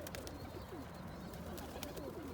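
Pigeons coo softly at a distance, low throaty calls repeating over a faint, constant background hum.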